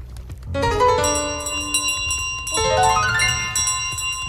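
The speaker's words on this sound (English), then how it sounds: "This is my bell." A bell in Untitled Goose Game rings out loudly and alone, a bright run of clanging tones struck in a quick series, then a second burst of rising chimes.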